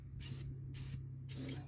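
A spray can sprays a Belltech suspension on an abandoned Dodge Dakota 5.9 R/T truck in three steady, evenly spaced hissing bursts over a low constant background hum.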